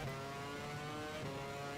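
A race car engine in the F1 Challenge 99-02 video game at the 2005 Chinese Grand Prix, overheating, holding a steady, droning whine at moderate level without any talk.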